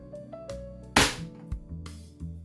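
A WE Glock 35 gas blowback airsoft pistol fires a single sharp, loud crack during a chronograph velocity test. The shot stands out against a low background hum and quieter clicks, with no speech.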